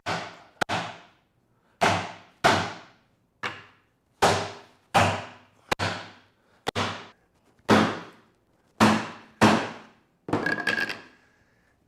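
A hammer striking a Morris chair joint to drive it together until it bottoms out, about a dozen sharp, close blows at a steady, slightly uneven pace, each ringing briefly, with a final flurry of lighter taps.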